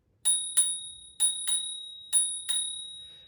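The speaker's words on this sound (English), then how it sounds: "this has a built-in bell that's built into the little brake system here" The built-in bell on the brake of a KBO Breeze e-bike rings six times in three quick pairs, each bright metallic ding sustaining a steady ringing tone, close and clear with no talk.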